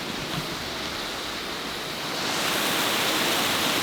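A waterfall rushes with a constant broadband roar, nearby and steady, swelling slightly louder toward the end with no voices.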